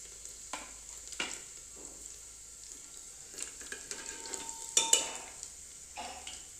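Cumin, garlic cloves, bay leaf and cloves frying in a pot for vegetable khichdi, heard as a faint low sizzle with scattered light scrapes and knocks of a spoon against the pot, quiet and close.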